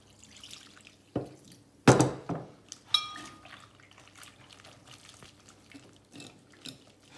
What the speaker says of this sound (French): on rajoute le liquide